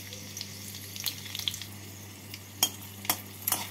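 Dried red chili, two green chilies and half a teaspoon of nigella seeds fry in hot white oil, a soft close sizzle broken by several sharp pops and crackles near the end.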